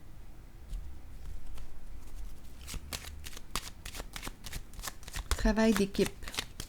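An oracle card deck is shuffled in quick riffling bursts, then a card is laid down, close and crisp under a voice speaking French.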